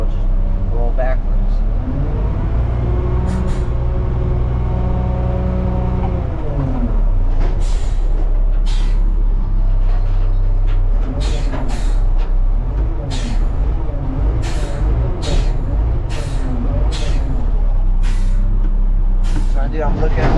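A front-load garbage truck rolls backward by gravity without reverse gear, its engine rumbling low and steady while repeated sharp air-brake hisses burst out near the end. A person talks over the engine noise.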